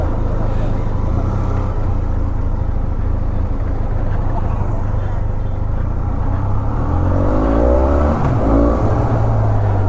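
A Benelli 502C motorcycle on new TVS Eurogrip Roadhound tyres rides on the road, its engine droning steadily and close with heavy wind rush, rising slightly near the end.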